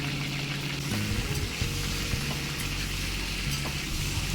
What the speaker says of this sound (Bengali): এবার এগুলোকে একটু তেলের সাথে নাড়িয়ে নিতে হবে